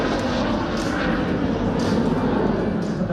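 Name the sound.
Aero L-29 Delfin jet trainer aircraft flying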